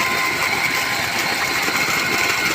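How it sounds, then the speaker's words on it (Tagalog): A solar water pump runs in a rice field in Naujan, Oriental Mindoro, giving off a steady, close, unbroken mechanical hum and rush with no pauses and no talk. "Solar water pump."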